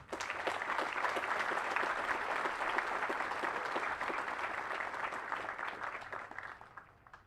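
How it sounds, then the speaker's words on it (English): Steady, sustained applause from a large audience honoring awardees at an Army ROTC advanced camp graduation ceremony, dense and even throughout before tapering slightly at the end. "Ladies and gentlemen, please join me in giving our awardees another round of applause"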